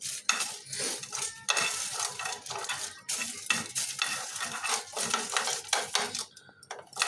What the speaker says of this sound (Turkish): Şekerimizi atıyoruz. Bunu karıştırıyoruz.